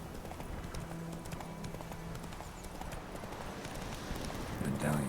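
Horse hooves clip-clopping in The Witcher 3, a steady rhythmic patter of game footsteps running throughout, with a voice talking over it and a brief louder burst near the end.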